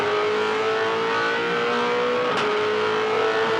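A 2007 V8 Supercar, Russell Ingall's Caltex Ford Falcon, races during the Queensland 300, its engine holding a steady loud drone with a brief sharper burst partway through, without any talk over it.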